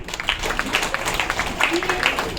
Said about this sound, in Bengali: সকলের কাছে চাচ্ছি স্যারের জন্য একটা সাজোরে করতালি